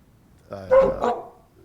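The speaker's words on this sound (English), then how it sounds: "I just heard a dog in the back there" One dog gives a single short, moderately loud bark-like yelp in the background, lasting under a second.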